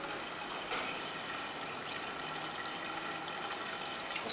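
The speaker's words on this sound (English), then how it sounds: "So I'm going to pour a little more water here on the surface as well." Water poured steadily onto the soil surface of an EarthBox planter, a continuous even wash of splashing lasting throughout with no pauses and no voices.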